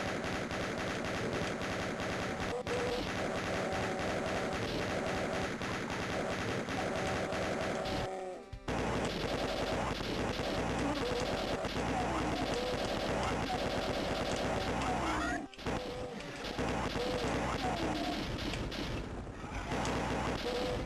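Rapid, loud gunfire from DOOM on the Game Boy Advance, sustained bursts of shots with brief pauses, over dense game sound and music.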